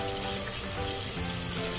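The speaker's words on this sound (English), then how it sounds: "make sure you wash this with cold water" Raw chicken meat being rinsed under a cold kitchen tap, with a steady, loud, unbroken rush of running water filling the whole moment and no voices over it.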